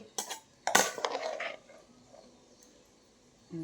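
A metal spoon scrapes and clinks against dishes while food is served onto a plate, a few sharp close clatters early on, then quieter scraping.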